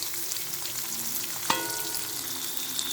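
Chopped onions fry in hot oil with whole garam masala, cumin seeds and a bay leaf; a steady close sizzle continues throughout, with a sharp metallic clink midway as they are stirred.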